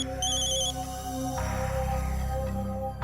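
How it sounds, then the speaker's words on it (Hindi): An electronic phone ringtone plays continuously, a steady tonal melody with bright repeating notes, fairly loud with no talking. "ये लो, तारिका का फोन।"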